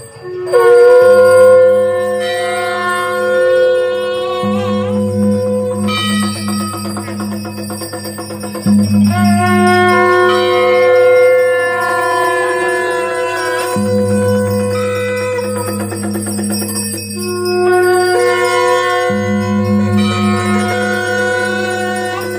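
Thai Buddhist temple ceremony with gongs, drums and bells sounding together, sustained ringing metallic tones layered over steady low drumming, loud and continuous throughout with no talking.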